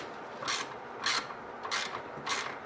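Ratchet wrench tightening wheel hub bolts on a Jeep Grand Cherokee during wheel bearing work: four short bursts of rapid clicking, evenly spaced about half a second apart, close and fairly loud with no talk.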